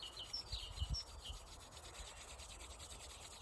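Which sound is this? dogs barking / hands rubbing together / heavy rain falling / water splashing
hands rubbing together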